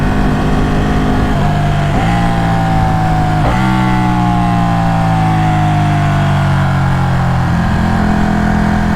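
A Ducati Panigale 1199S Tricolore superbike accelerates hard, its loud engine rising steadily in pitch through the gears, with short dips at each shift. The sound is close and continuous, with strong wind rush.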